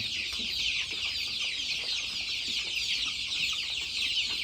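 Dense, steady chatter of many desi, Rhode Island Red and Black Australorp chicks at a poultry farm, a continuous high peeping wash with soft clucks underneath, fairly loud and close, no talking.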